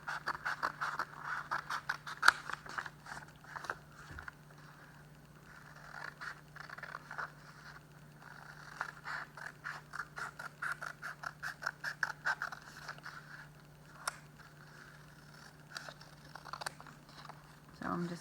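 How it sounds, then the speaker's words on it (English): Scissors snipping through paper to cut out a small Frayer model box, a steady run of crisp close-up cuts and rustles over a low steady hum, with a few pauses. "So I'm just cutting a little Frayer model box out."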